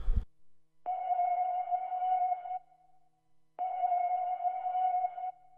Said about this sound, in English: It's just a reverse like pad, to texture, I guess, airy texture.